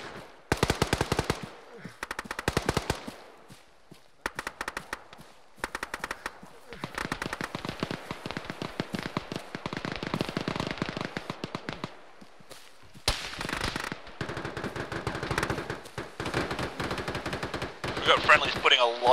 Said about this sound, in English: We've got friendlies putting a lot of fire downrange to where we're moving.